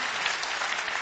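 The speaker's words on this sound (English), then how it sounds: "I think this is worth an applause." A conference audience at an Italian technology week event breaks into a brief, dense burst of clapping from many hands, with no voices over it.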